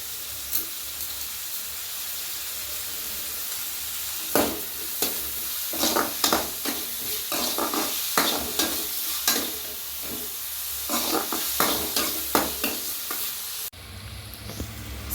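Onion with salt sautés in a pan, a steady sizzle under a run of rhythmic spatula strokes and scrapes that grow busier toward the end before an abrupt change.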